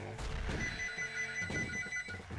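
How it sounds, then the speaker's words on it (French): A telephone rings in a room, repeated bell-like ringing bursts at moderate volume mixed with other background sounds, no one speaking over it. "Déjà, génial, il y a le téléphone."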